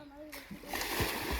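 Two people jump together into water during a summer swimming session, a voice heard briefly before a loud splash breaks out, followed by churning, sloshing water close by.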